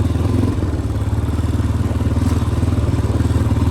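A 1999 Honda TRX 400EX quad idles and putts along steadily, its single-cylinder engine giving a loud, continuous low rumble with a rapid, even pulse throughout, and no one speaking over it.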